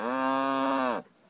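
A person imitates a cow with one sustained, loud, nasal moo lasting about a second, close to the microphone, then cutting off abruptly.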